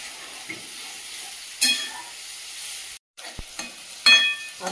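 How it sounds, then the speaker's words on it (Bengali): Vegetable chochchori cooking in a pan over a lowered gas flame after a splash of water, a soft steady sizzle and hiss with occasional louder stirring scrapes and a brief cut. "গ্যাসটা কমিয়ে রান্না করবো চচ্চড়ি"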